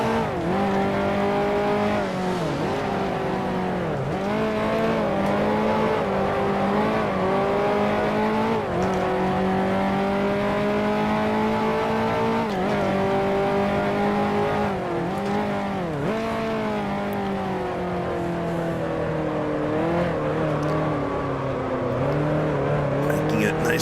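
A 1955 Formula One race car in the Grand Prix Legends game at Monaco, its engine note rising and falling steadily through gear changes and throttle lifts, loud and continuous with no talk.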